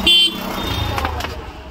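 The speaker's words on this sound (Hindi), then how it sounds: "हॉर्न बजा, हॉर्न।" Horn of a new scooter honking near the microphone, a short loud toot at the start followed by a fading tone, while people talk and shout around it.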